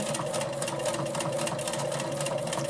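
A sit-down sewing machine doing free motion quilting with ruler work runs at a steady, rapid stitching hum, close and moderately quiet, without pauses.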